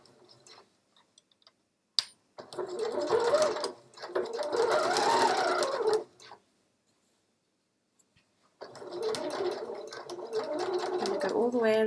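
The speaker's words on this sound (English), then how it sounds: "Check you've put your machine on a straight stitch." A home sewing machine runs a straight stitch along a scrubs neckline in two bursts of rapid ticking clatter, separated by a quiet pause, with a voice speaking nearby.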